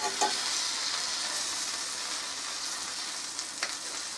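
Bacon and sausage fry in a pan, a bright, even crackling sizzle that holds steady throughout, with a few louder pops.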